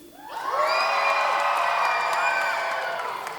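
A children's crowd at a summer camp drama day cheers and shouts loudly to vote, a sustained burst of whoops and yells that swells in and holds steady for about three seconds.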